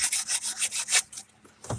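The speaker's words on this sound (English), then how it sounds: "so what I'm doing is I am sanding this as I'm trying to find it" Sandpaper rubbed by hand over a soldered copper plumbing fitting for a solar hot water heater, a quick series of about six close, rhythmic rasping strokes, then a pause and one last scrape.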